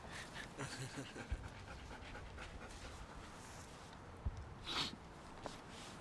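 A dog pants softly and steadily close by, a quiet rhythmic huffing with a couple of faint snorts and no talking.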